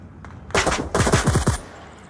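A burst of rapid video game gunfire, close and loud, breaking out after a quiet moment and rattling in fast repeated shots for about a second before cutting off.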